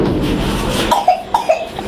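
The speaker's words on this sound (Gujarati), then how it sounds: "એવી ઉધરસ ખાઈ ગયા તો." A person coughs several times in short, close bursts near the end, after a stretch of muffled background noise.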